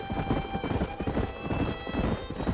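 Horses in the Western video game Red Dead Redemption gallop with steady, close clip-clop hoofbeats, and a neigh breaks through over the game's rumbling background.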